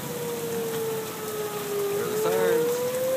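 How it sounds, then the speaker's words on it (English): A long, steady tornado warning siren wails across a wash of heavy rain in Denver, Colorado at night, gently rising and falling in pitch, sounding fairly distant. "Sirens going off in Denver, Colorado for tornadoes."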